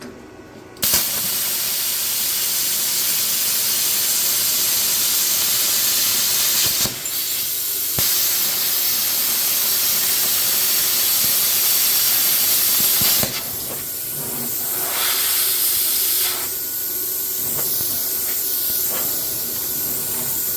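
An Arccaptain Cut50 plasma cutter cutting metal plate such as aluminum, stainless steel or punched steel: a loud, steady, close roaring hiss of the arc and air that runs almost without a break, with brief dips in level and no talking.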